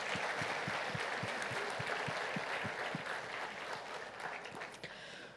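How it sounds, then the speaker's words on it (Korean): A church congregation claps together in a dense, steady burst of applause that carries on for several seconds, with no talk over it, before gradually thinning near the end. "주님께 감사의 박수를 올려드리겠습니다"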